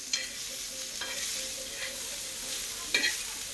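Something dry-roasting in a pan for kharvas (colostrum pudding), stirred now and then, giving a steady soft sizzle with a few scraping strokes of the spoon against the pan, close and moderately quiet with no talking.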